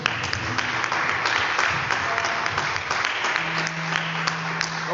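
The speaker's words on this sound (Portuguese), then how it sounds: "Vamos aplaudir ao Senhor Jesus" A church congregation at an evening service claps for Jesus, a steady, moderately loud patter of many hands with a low hum underneath that holds throughout.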